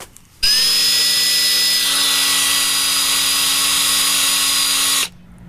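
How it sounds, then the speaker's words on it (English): A loud, close power drill spins up drilling a hole in a plastic cap and holds a steady high whine for about five seconds before cutting off abruptly. "Now we're going to need to drill a hole in the middle of the top cap."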